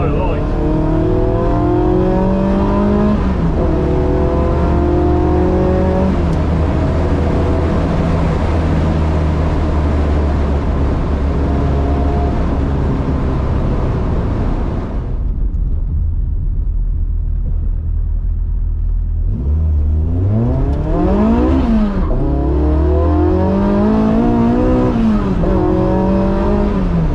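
Someone's lightweight 250 horsepower Ford Escort revving hard while driven, loud engine note climbing through the gears with a lull, then rising again; a voice talks over it.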